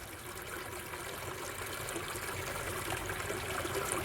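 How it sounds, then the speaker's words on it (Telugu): Water from a burst pipeline rushes and trickles steadily into a drain, a constant close wash of flowing liquid with no pauses. "ఈ నీరంతా ఇలా పారుదలయ్యి డ్రైనేజీలోకి ఎట్లా కలిసిపోతుందో చూడండి మీరు"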